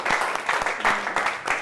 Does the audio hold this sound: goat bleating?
no